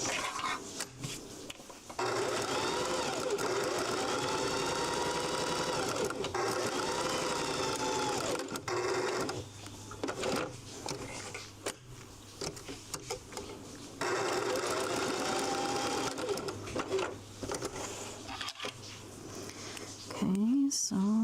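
Domestic sewing machine back-stitching the corners of fabric bookmarks, running in steady bursts with brief pauses between passes, close and continuous over most of the stretch.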